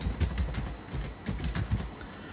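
Keystrokes on a computer keyboard as a chat command is typed, a quick irregular run of light clicks, close and fairly soft, with no talking.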